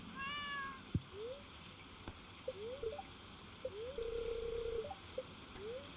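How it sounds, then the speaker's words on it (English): A pet cat meows several times indoors, short rising calls and one longer drawn-out meow, close and clear against a quiet room with faint background hiss. "Pet the kitty."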